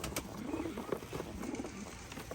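Pigeons, white birds bred from a keeper's own flock, give soft, repeated low coos close by over faint background noise.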